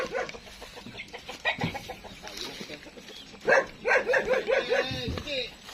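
Chickens cluck in a quick, rhythmic series close by, mixed with a person talking in Tagalog and what sounds like a dog barking.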